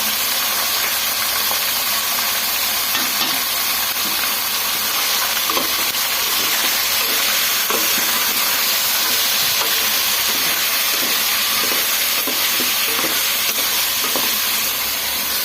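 Spicy chicken pepper fry cooking in hot oil, a loud, dense sizzle and hiss with faint stirring clatter that stays constant throughout.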